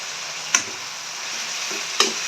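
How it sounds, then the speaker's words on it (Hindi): Tomatoes and green chillies frying in a pan for potato bhaji: a continuous bright sizzle, broken by two sharp clinks of a spoon stirring against the pan, near and with no voices. "और 10 मिनट के लिए इन्हें फ्राई होने दें"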